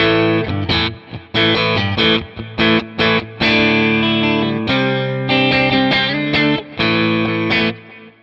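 Fender Jason Isbell Custom Telecaster in the middle pickup position, strumming clean chords in bursts, with a slightly hollow, mellow, low-output vintage twang between full and thin, loud and close with brief gaps.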